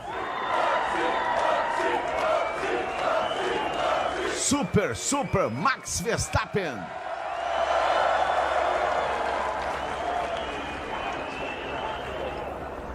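Grandstand crowd at the 2022 Austrian Grand Prix Formula 1 qualifying cheers and applauds Max Verstappen after his pole position, a dense, continuous roar of many people with a commentator's voice over it.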